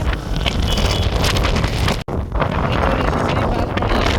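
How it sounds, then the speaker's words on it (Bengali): Strong wind near a sea beach buffets the microphone in loud, continuous roaring gusts, with a brief break midway and no clear talking. "প্রচুর বাতাস খুবই ভালো লাগতেছে"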